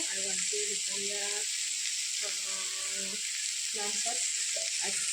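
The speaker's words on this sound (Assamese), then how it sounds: "এতিয়া শাক ভাজি আছোঁ" Leafy greens fry in a pan with a steady, loud sizzle throughout, while a voice talks intermittently over the crackling.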